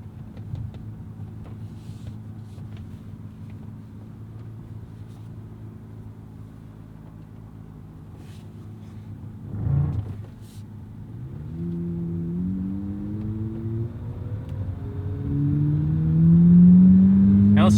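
A 2023 Chevrolet Corvette Z06 mid-engine sports car with Z07 package idles with a low, steady rumble, then a short blip before the engine revs rise in pitch as it pulls away, growing louder.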